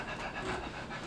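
A lecturer imitating rapid panting breath, with short quick breathy huffs repeated over about a second, fairly quiet.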